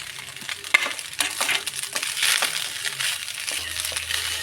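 Fried rice with egg and chicken being stirred and tossed in a pan, giving a soft, steady sizzle with scraping and clinking of the spatula, close up and with no speech.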